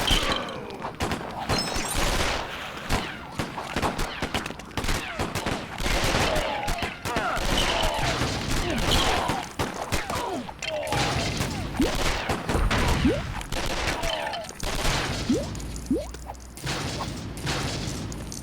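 Sustained rapid gunfire in a Joker video game, dense crackling bursts and volleys aimed at the player, continuous and loud throughout with brief dips between barrages.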